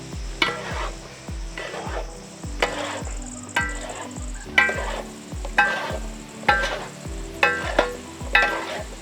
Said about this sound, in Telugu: అన్ని మసాలాలు చక్కగా వేగాక దీంట్లోనే మనం మష్రూమ్స్ యాడ్ చేద్దాం.